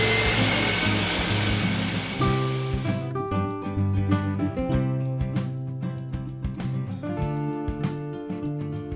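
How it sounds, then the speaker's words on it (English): A miter saw cuts through a hard maple board in a woodworking shop: a loud blade whine that gives way to a resonant, ringing tonal drone with repeated clicks as the blade spins down, heard close with no talk. "I cut through it on the miter saw."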